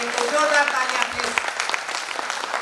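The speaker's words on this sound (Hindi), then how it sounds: "तो जोरदार तालियां प्लीज" Audience applause at a founder's day celebration in Dehradun, a steady wash of clapping with a voice speaking over it and faint tonal music underneath.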